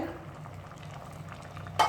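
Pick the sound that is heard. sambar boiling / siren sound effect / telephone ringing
sambar boiling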